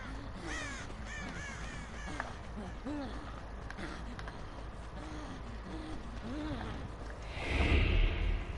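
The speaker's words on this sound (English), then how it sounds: "Heard a bird over this way." Crow cawing in a video game: a series of repeated harsh caws rising and falling over steady in-game ambience, with a louder rumbling swell near the end.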